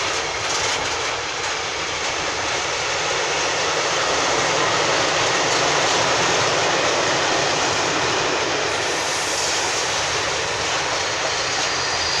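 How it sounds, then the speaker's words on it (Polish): Trains pass along a railway in Czechia, a loud, broad, continuous rushing roar of rolling stock that stays steady throughout with no voices. "Z drugiej strony jedzie, jedzie, jadą składy na, na południe, na Żylinę, no i na Petrowicę Karwinę"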